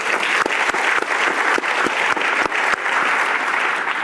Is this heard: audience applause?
yes